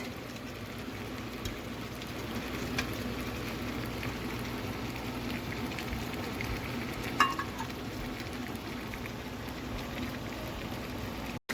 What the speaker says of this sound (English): And you want to cook it until the orange juice is reduced.